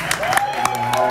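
Audience clapping at a live gig, a dense spread of claps across the whole moment, with a voice and some musical tone underneath.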